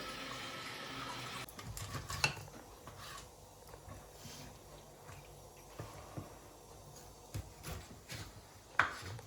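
Tap water runs steadily and fairly quietly while chicken is rinsed beneath it, with a few sharp clinks and knocks along the way.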